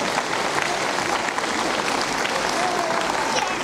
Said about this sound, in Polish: Duże brawa za to drugie miejsce dla Państwa Maj.